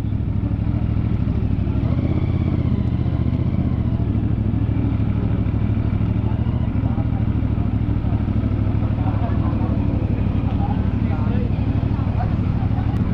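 A CFMOTO CLC 450 cruiser motorcycle runs with a steady, deep engine rumble up close, continuous and loud, while someone talks over it.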